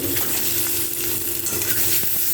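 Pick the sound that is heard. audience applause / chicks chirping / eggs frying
eggs frying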